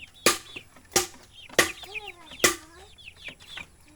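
A chicken clucks close by while its wings flap in several loud bursts, with bird calls between the flutters.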